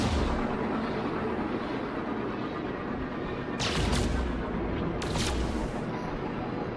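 Explosions from a phase beam in No Man's Sky, a loud continuous rumbling roar with two sharp bursts a second or so apart, no talking over it.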